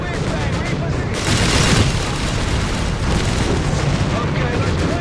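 German artillery shells exploding in the Company of Heroes 3 war game during a 4v4 battle: loud, continuous booming blasts and rumbling, with a denser burst of explosions in the middle.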